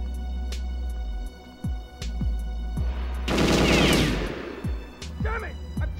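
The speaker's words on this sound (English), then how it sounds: "Damn it! I'm taking fire!" Gunfire from the Nintendo 64 game Perfect Dark: repeated sharp shots with a loud sustained burst of automatic fire in the middle, heard against the game's background music.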